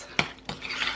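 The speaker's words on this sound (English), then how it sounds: "Let's just mix this." A spoon mixes egg salad with mayonnaise in a bowl, giving two quick clinks against the bowl followed by soft, wet scraping, close and fairly quiet.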